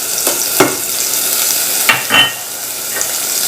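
Chopped onion sizzling in hot butter in a pan, a spoon scraping and stirring it in a few brief strokes over a steady close fry.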